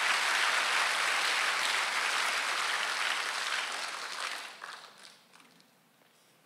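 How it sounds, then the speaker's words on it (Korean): A church congregation at a Sunday worship service claps hard together, a loud, dense burst that carries for several seconds, then thins out and fades to a few scattered claps and near quiet. "박수 좀 세게 쳐요."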